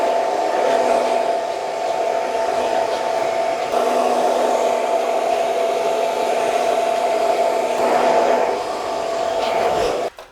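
A hair dryer fitted with a nozzle blows steadily while curly hair is dried, its whine loud and constant before it cuts off abruptly at the end.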